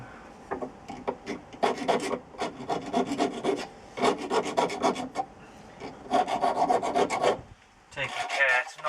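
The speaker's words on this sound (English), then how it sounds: "Then we're going to put a heavy chamfer all the way around." A hand file rasps along a metal edge to put a heavy chamfer all the way around, steady back-and-forth strokes in close bursts separated by brief pauses.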